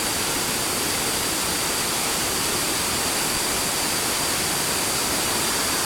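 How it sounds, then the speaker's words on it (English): Kuang Si waterfall in a national park near Luang Prabang, Laos, roars as a continuous, dense wash of rushing water, loud and even from start to finish with no voices. "I've been taken here to a national park to come and see the waterfalls"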